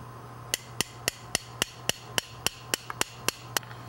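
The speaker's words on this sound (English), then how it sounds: "this is impacted using a hammer to impact the bone" A surgical mallet strikes a broach being driven into the thigh bone during a hip replacement, giving about a dozen sharp, evenly spaced metallic taps in steady rhythm over a quiet operating-room hum.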